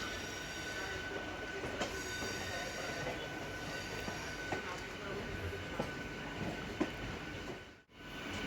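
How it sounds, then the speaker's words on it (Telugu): A MEMU commuter train pulls slowly out of Secunderabad station, giving a steady rumbling ride noise with faint wheel clicks and occasional knocks, then a brief dip near the end. "సికింద్రాబాద్ స్టేషన్ నుంచి అయితే ట్రైన్ స్టార్ట్ అయింది"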